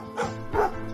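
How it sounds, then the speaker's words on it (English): A dog barks twice in quick succession, two short close woofs about half a second apart, clear and alone. "He sees a dog. A dog barks."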